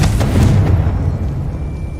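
A Confringo spell explosion in Hogwarts Legacy hits with a loud, deep boom that rumbles and decays over a couple of seconds, with no voices over it.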